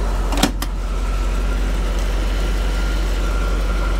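A $400 motorhome chassis idles steadily with a deep low rumble, broken early by a couple of brief clunks, on a hot day.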